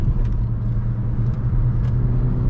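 A Suzuki Vitara 1.4 Boosterjet Allgrip driving briskly on a twisty road, with a steady low engine drone and road rumble inside the cabin, loud and continuous.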